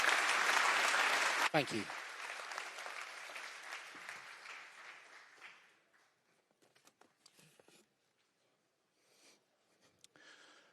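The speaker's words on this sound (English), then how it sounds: "Big round of applause" A conference audience at AI Native DevCon London applauds after a talk, with loud, dense clapping that tapers off over several seconds into scattered claps and quiet. A voice briefly says thanks.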